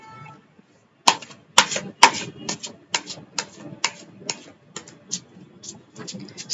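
A deck of tarot cards shuffled by hand after some had fallen, making a steady run of close, crisp slapping clicks, a few louder snaps at first, then softer repeated flicks.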